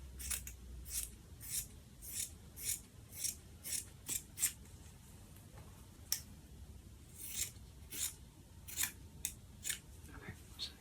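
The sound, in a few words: scissors cutting out fabric pieces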